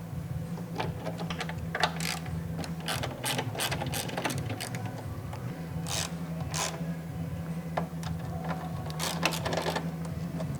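Ratcheting clicks and gear-like mechanical rattles from unscrewing fasteners on a Lincoln Electric 210MP welder on a shop floor, with irregular bursts of clicking over a steady low hum and no talking.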